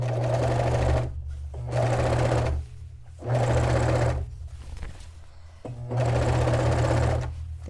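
Sewing machine stitching long runs of bed sheet fabric for a vintage-style dress, a loud steady motor whir in three bursts separated by short pauses, with no talking.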